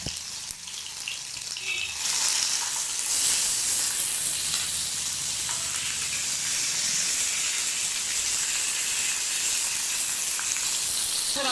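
Green chillies and tomato hit a hot pan of coconut oil and sizzle loudly; a steady, bright frying hiss jumps up after the first couple of seconds and holds without pause.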